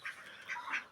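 A domestic duck, a broody female sitting on eggs, gives three hoarse honking calls at close range, evenly spaced across a moment with no talk.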